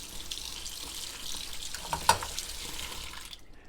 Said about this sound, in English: just give them a quick little rinse